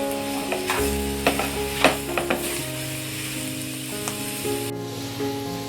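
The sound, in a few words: jackfruit vegetable being stir-fried in a pan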